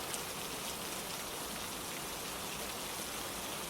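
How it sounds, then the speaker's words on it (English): Steady rain falls as an even, dense patter of drops on surfaces, close and continuous with no pauses or voices. "The rain answers with steady rhythm."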